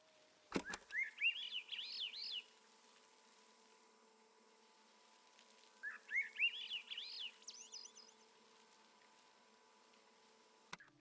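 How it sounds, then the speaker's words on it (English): Birds in the video game Season: A Letter to the Future chirp in two short bursts of rapid, high trilling tweets separated by a quiet pause, faint against a soft steady hum, with a sharp click at the start and end. "There's the birds."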